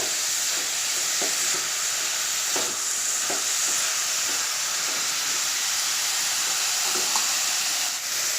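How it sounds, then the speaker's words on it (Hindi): Bottle gourd sizzling steadily in ghee in a pan, a continuous close frying hiss with a few soft stirring clicks and scrapes. "ये दूधिया को हम थोड़ा घी में ऐसे ये करके लेंगे, फ्राई करके।"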